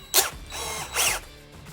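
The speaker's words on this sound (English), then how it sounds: "So I'm going to chuck it back up into drill press," A drill spins a metal fastener part, being brought back up to a shine with 400-grit after the bluing is removed: two loud whirring bursts with mechanical clicking, close by, with no talk.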